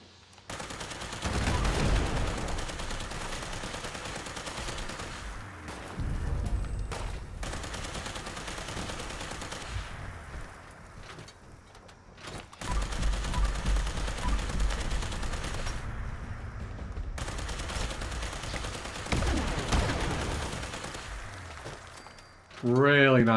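Explosive Tesla rifle fire in Fallout 76 comes in loud, rapid bursts of crackling shots and blasts, pausing briefly between volleys while a voice talks over the action.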